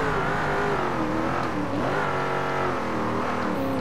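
A race car engine in Forza Motorsport 7, a nostalgic drag-racing car, revs loud and close at high RPM, with a continuous strained howl that rises and shifts in pitch throughout.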